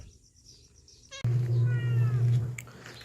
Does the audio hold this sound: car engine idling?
no